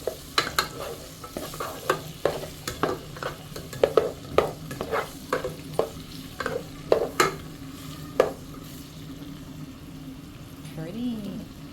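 Sweet corn rice sautés in a pan, with a soft sizzle beneath repeated sharp scrapes and clacks of stirring in an uneven rhythm, and a voice speaks briefly near the end.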